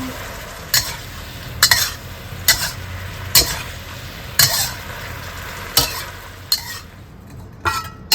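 Pork belly and string beans stir-fried in a wok: a steady sizzle broken by about nine sharp scraping tosses of the spatula at a fairly even rhythm, close and loud.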